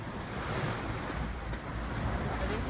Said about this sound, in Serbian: ovo je ocean.